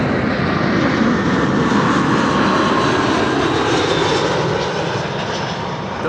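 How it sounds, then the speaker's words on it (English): British Airways A319 jet arriving at Amsterdam Schiphol from London Heathrow, a loud, close, continuous engine roar with broad rushing noise that holds steady and then eases slightly toward the end. "British Airways BA. Flight 432, arriving from London Heathrow, A319."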